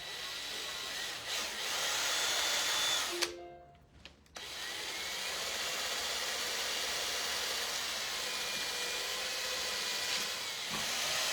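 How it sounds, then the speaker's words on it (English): A steady high whirring hiss of a power drill boring holes through a leather strap runs throughout, briefly dropping out and restarting, close and continuous. "you're gonna need to drill your holes through your leather strap"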